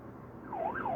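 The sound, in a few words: fire truck siren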